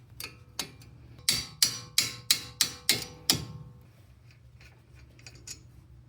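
A 13 mm wrench works a brake caliper bolt on a 2024 Mazda CX-30 during a front brake job, giving a quick run of about six sharp metallic ratchet clicks, close and alone, followed by faint scattered ticks.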